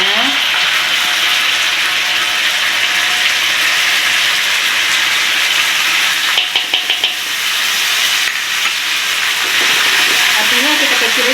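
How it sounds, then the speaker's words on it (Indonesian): Ground chili frying with browned onions in a pan for Padang-style fried rice vermicelli, giving a loud, constant sizzle and hiss with a few brief stirring scrapes partway through. "Kita masukin lagi cabai giling tadi."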